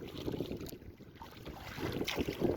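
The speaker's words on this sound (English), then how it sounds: "dealing with at least 20 to 25 kilometer surface wind in the gusts" Steady gusty wind of 20 to 25 km/h roars across the microphone on a lake during a canoe trip, a broad rushing noise that swells stronger toward the end, with water sloshing underneath.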